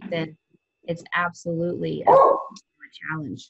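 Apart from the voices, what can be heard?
dog barking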